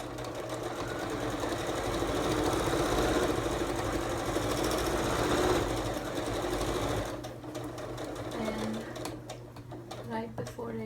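A home sewing machine runs steadily, stitching an upholstery-weight cotton cushion cover, its dense motor whir continuous for about seven seconds before stopping, followed by quieter handling noises and short bursts.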